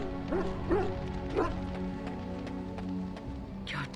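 A dog in the video game Dragon Age: Origins gives three quick barks over a soft rain-like ambient bed, then goes quiet.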